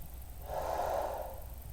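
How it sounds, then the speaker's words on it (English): A single audible inhale during a standing barre exercise workout, a soft breathy swell rising and fading near the mic. "Breathing in."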